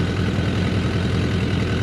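Five motorcycles idle together, including a Suzuki Katana, a Honda Monkey and a Grom clone, their engines blending into a steady, loud, low rumble with no talking.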